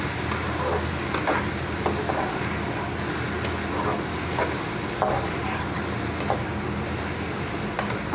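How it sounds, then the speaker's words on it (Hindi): A spoon scrapes and clinks steadily through chopped tomatoes and softened onions frying in a pan for okra curry, with a constant close sizzle and scattered sharp taps of metal on the pan. "अब हम इसके अंदर टमाटर डाल देंगे और चम्मच चलाएंगे"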